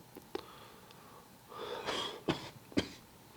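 A man coughs several times close up, a short early cough, then a rougher throat-clearing bout and two sharp separate coughs, over a quiet room background.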